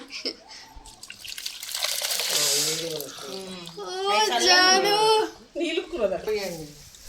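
Hot water runs and splashes steadily, like pouring from a tap, while a person talks over it.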